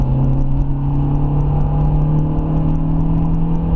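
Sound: Renault Scenic RX4 on LPG accelerating in second gear

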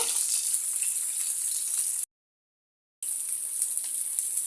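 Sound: rui fish frying on one side in a pan

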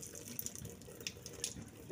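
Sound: water running from a tap

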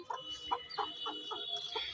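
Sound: chickens clucking

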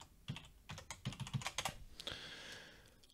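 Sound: typing a password on a computer keyboard

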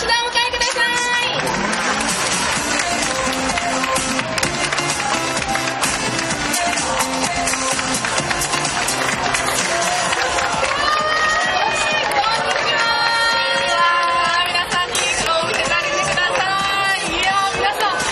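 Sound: applause welcoming a guest

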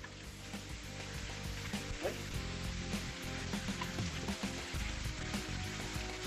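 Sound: spinach frying in a pan

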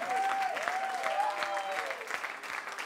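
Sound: audience applause at live concert

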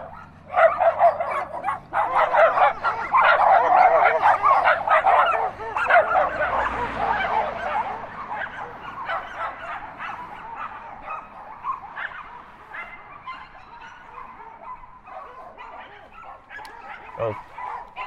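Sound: small Yorkie dogs barking

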